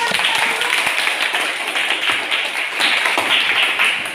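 A classroom of students claps at close range, a dense run of sharp overlapping hand claps sustained for several seconds with no talking over it.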